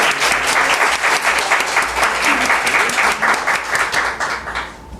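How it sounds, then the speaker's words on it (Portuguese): A crowd applauds steadily at a talk, dense clapping filling the room at full loudness before tapering off slightly at the very end. "Uma salva de palmas."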